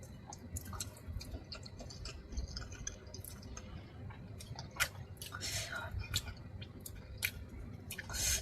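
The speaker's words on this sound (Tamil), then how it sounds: "நல்லா அதை கிரேவி ரைஸ்ல நல்லா மிக்ஸ் பண்ணி ஒரு பைட் எடுத்து சாப்பிட்டு பார்க்கலாம்." Close, soft chewing of a mouthful of biryani mixed with gravy rice and chicken, moist smacking and squishy bites continuing steadily, with faint clicks and small sounds around it and no clear words.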